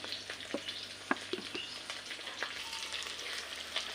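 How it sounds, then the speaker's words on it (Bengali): Fish-egg fritters fry in hot oil in a kadai, a soft continuous sizzle with scattered sharp pops and crackles, fairly quiet and close. "এখন বড়াগুলো ভেজে নেব।"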